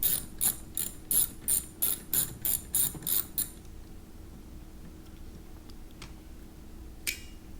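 A ratchet tool clicks in quick bursts, about ten rapid rhythmic ratcheting strokes, while backing out screws on a BMW 328i E90 cabin air filter housing, then goes quiet apart from a faint click and a brief knock near the end.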